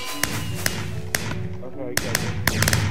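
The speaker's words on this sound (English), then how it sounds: "those fireworks are more exciting" Sharp fireworks pops and cracks in Minecraft burst in an irregular series of loud, close bangs, with game ambience underneath.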